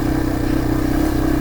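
A dirt bike engine drones steadily up close while riding through the Vermont wilderness, a loud, pulsing mid-range rumble with a rattling, chuffing texture.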